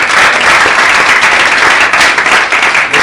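Audience at a seminar event bursts into loud, dense clapping that holds steady and fills the room throughout.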